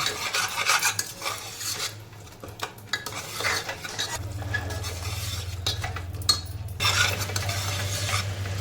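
A spatula scrapes and stirs masala cooking in a pan for a soy and pea pulao, with irregular close scraping strokes over a steady low sizzle.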